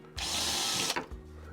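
A power drill whirring for about a second as it drives into a wall while installing a fireplace mantel, close and loud, then cutting off, likely straining against a metal plate behind the surface.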